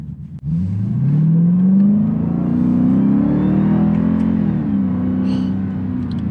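The engine of a 2021 Dodge Durango SRT roars up through the revs, loud and close, pitch climbing and sustaining before easing slightly.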